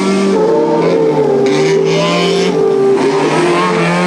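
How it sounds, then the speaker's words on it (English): A rally car engine revs hard and loud at the 1994 Rally Australia Langley Park stage, its pitch climbing and dropping in repeated surges with no pauses. "he revs the head off this car"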